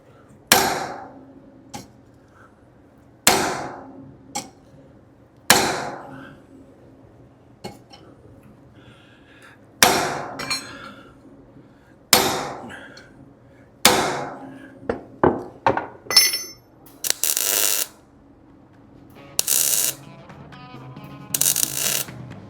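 Welded steel is hammered into shape in a truck shop with sharp, ringing metal blows spaced a few seconds apart. Near the end come quicker clatters and a burst of hissing, all close over a low background hum.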